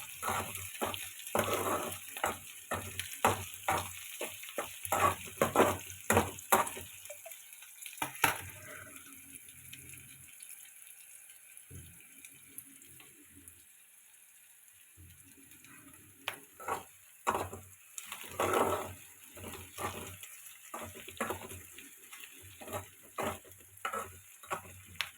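Ridge gourd (beerakaya) curry frying in a pan, soft sizzling punctuated by repeated scraping stirs with a ladle, busy bursts at the start and end with a quieter stretch of gentle frying in between.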